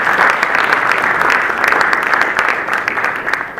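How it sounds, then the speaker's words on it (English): An audience at the 24th Annual Thurgood Marshall Lecture breaks into warm, loud applause, with many hands clapping in a thick, continuous wash that fades slightly near the end of a few seconds. "I think we should give the center and Darnell Hunt a big round of applause."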